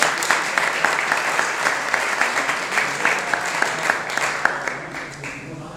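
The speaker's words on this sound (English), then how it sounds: "another round of applause to our moderator this evening, Roy Maynard." An audience at a Texas House District 5 candidates' debate applauds the moderator, a steady, full wash of many people clapping together, sustained at an even level and tapering slightly at the close.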